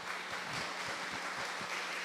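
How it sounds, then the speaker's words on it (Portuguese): Steady applause from a church congregation, a continuous wash of clapping with no voices standing out. "Uma salva de palmas para essa senhora."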